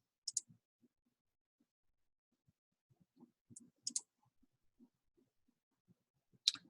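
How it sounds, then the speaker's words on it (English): Computer mouse clicks sound while paging through a Facebook party template: sparse, sharp, quiet clicks in small clusters, with soft low handling noises between them in a near-silent room. "clicking next and next and next"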